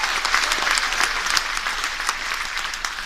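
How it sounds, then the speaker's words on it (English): Cruise ship audience applauding the entertainment team at a farewell crew show aboard Marella Explorer, dense sustained clapping from a large crowd, fairly close and even, slowly thinning toward the end. "And now about a round of applause for Matt and his entertainment team"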